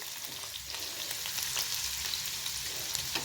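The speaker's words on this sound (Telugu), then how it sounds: "చిన్నగా కట్ చేసి పెట్టుకున్న ఆనియన్స్ పెద్దవైతే ఒకటి చిన్నవైతే ఒక రెండు వేసుకోవాలి" Finely chopped onions crackle and sizzle steadily in hot oil in a pan, a close, continuous frying hiss with small pops and no voices.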